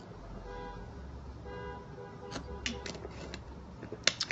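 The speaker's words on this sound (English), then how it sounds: "Can you guys hear New York outside my window?" New York street traffic rumbles faintly outside an apartment window, with several short car horn toots near the end and a low, steady hum beneath.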